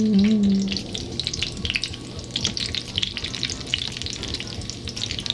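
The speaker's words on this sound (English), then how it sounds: "I just kind of move the oil around the sides so that the sides get cooked and it'll be easier to flip" A Filipino turkey giniling torta, a ground-turkey omelette, fries in oil in a pan with a steady close sizzle and crackle, slightly louder at the start, then even and continuous with no talking.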